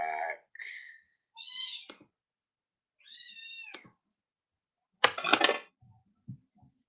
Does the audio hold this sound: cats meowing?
yes